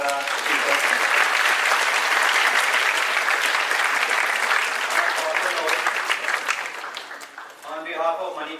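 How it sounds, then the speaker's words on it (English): A large audience at a university talk applauds loudly and steadily for the speakers, a dense wash of clapping that fades near the end as a voice begins to speak over it. "I request everyone to give a huge round of applause for our speakers"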